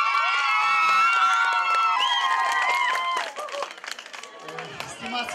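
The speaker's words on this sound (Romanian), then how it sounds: "Aplauze, oameni buni!" A large crowd at a village festival in Brătuleni, Nisporeni, applauds and cheers loudly, then the clapping thins out into scattered claps with some voices.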